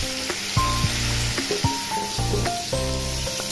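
Cut potatoes sizzle steadily in a hot pan for an aloo sabzi, a continuous frying hiss running under tonal background music.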